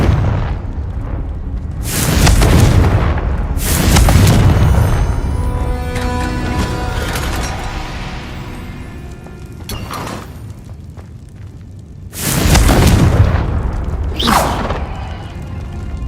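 Confringo fire spell blasts in Hogwarts Legacy, a handful of loud booming bursts with whooshing tails, close and forceful, separated by ringing, tonal magical effects and ambient rumble.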